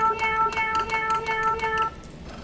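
A cartoon cat piano sounding as a run of pitched meows, several cat cries in quick succession forming a tune, clear and upfront before fading out.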